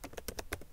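Quick, light keystrokes on a computer keyboard: about six distinct clicks in under a second, close and fairly quiet, with no talking.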